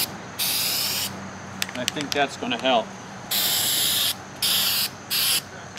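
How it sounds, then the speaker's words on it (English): Bursts of hissing from a paint spray gun applying multicolor paint to RV countertops, switching on and off repeatedly, with a person speaking briefly in between. "So after this coat, I'm going to use a circular pattern to my spraying."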